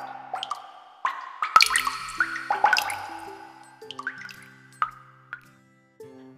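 Rain drops fall into water, making distinct plopping drips and small splashes at an uneven rhythm, close and clear, a dozen or so separate drops with quiet gaps between them.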